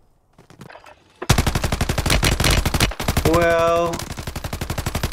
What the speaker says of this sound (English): Oh no, we are getting shot.